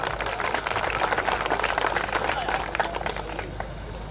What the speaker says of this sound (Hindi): मैं चाहता हूं इस पगड़ी के लिए पूरा सदन एक बार ताली बजा दे